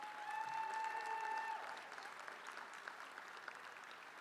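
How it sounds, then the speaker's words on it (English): A room applauds its union negotiation team during a state-of-the-union address, moderate clapping that swells early and then thins out, with a brief feedback-like tone at the start. "Give these people a round of applause."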